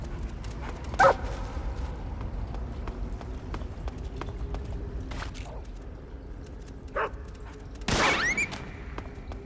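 A dog in the Metal Gear Solid 3 video game gives a few scattered barks and yelps over running footsteps and game background noise.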